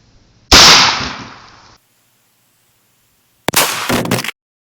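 A shotgun fires a double-aught buckshot round at a plastic target outdoors, one sharp loud blast with a decaying echo, followed by a shorter metallic clatter.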